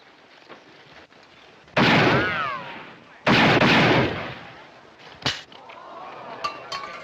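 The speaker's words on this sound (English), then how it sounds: "That's pretty good shooting, mister." Two loud, sharp gunshots with long ringing tails ring out a second and a half apart in a western shooting contest, followed by a few faint clinks and a brief voice.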